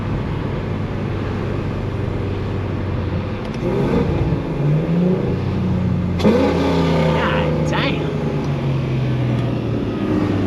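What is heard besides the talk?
car engine revving with exhaust burble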